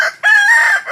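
A fighting rooster crows once in a backyard in the province, a loud, close, sustained cock-a-doodle-doo after a brief lead-in call, heard alone.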